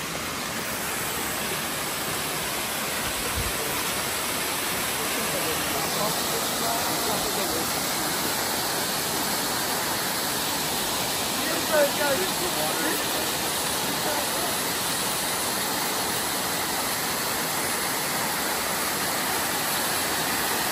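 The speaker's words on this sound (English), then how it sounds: "Look at the beautiful waterfall." Steady, dense roar of a waterfall, a continuous broadband rush that stays even and close throughout with no pauses.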